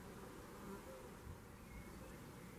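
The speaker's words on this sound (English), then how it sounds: "their red mason bees. They're a solitary bee." Red mason bees, a solitary species, buzz steadily at nesting boxes in a garden, a soft continuous hum with no pauses and no talking.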